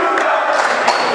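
A big crowd at a high school basketball game at Cape Cod Academy lets out a short, loud collective cheer, brief and continuous with no gaps.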